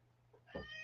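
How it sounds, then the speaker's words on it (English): A pet cat meows once in the background, a brief faint tonal cry rising and falling, distant and quiet over a low steady hum. "I'm sorry if you hear my cat meowing in the back"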